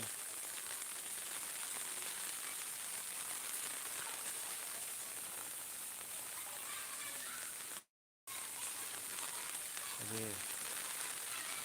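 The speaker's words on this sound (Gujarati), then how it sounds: "ધીમી ધારે વરસાદ વરસી રહ્યો છે" Steady rain keeps falling on Akala village, a uniform close hiss that runs throughout apart from a brief cut, with a faint voice near the end.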